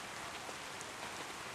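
Soft, steady rainfall with scattered faint droplet taps, a quiet continuous patter and no speech.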